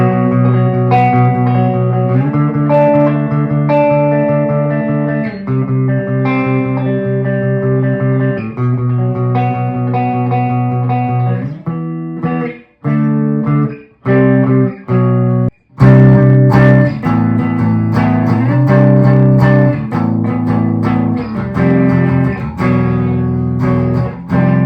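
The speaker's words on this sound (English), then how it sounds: "we have some clean, no reverb, no delay, just a dry, clean tone" A Westcreek JX-50 electric guitar plays in a dry, clean tone with no reverb or delay, strummed chords and single notes, loud and close with no voices.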